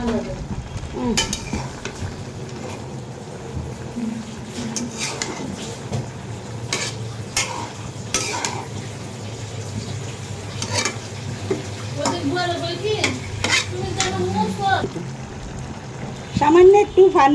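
A pan of pumpkin greens sizzles steadily while a spoon stirs and scrapes, with a splash of water poured in and brief clatters of cookware.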